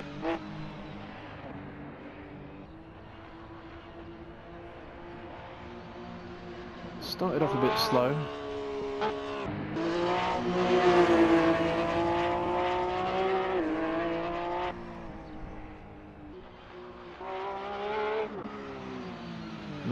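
A Porsche 911 GT3 Cup 2017 race car engine in Assetto Corsa, heard from inside the car, revs up and down through gear changes, its buzzing drone rising and falling beneath a speaking voice.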